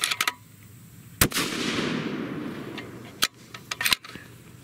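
Two loud, sharp rifle shots from a custom lightweight 7mm PRC rifle with a fresh barrel during load testing outdoors, each followed by a rolling echo, with a few fainter clicks and knocks after.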